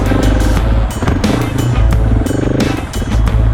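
A Husqvarna 701 motorcycle ridden on rocky single track in Southern Utah, its single-cylinder engine throbbing loud and close in first gear with throttle surges and bumps, no talk.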